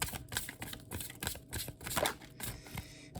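Oracle cards are shuffled by hand in quick, faint riffling and tapping bursts that run steadily throughout, with no voice over them.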